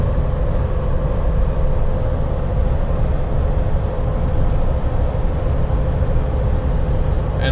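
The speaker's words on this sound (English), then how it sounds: "there's one vehicle passing me" Steady road noise from a Jeep JL Wrangler cruising past a bridge as another vehicle goes by, a continuous broadband rumble with a low drone and no clear swell of a single passing car.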